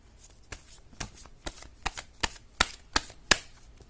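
Tarot cards being shuffled by hand, a series of crisp riffling snaps about every half second, close and clear with no talk.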